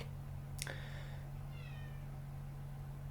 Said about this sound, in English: If you heard a cat just now